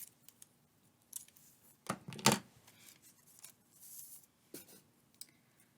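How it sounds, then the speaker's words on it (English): Scissors cut a sheet of newspaper in half for a paper craft, with a few close, quiet snips and crisp paper rustles spread across a mostly still moment. "I'm just going to cut this one in half to give me two smaller pieces."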